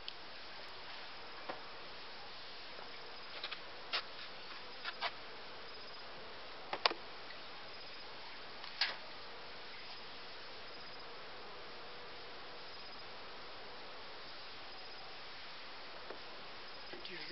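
Honey bees buzzing at a single-box hive during a spring inspection, a faint steady hum with a few brief louder buzzes and clicks near the hive.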